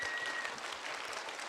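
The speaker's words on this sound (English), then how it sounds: "Can we have a round of applause for your teachers?" A children's audience at an author event gives a round of applause for their teachers, a soft, even wash of many hands clapping at moderate distance.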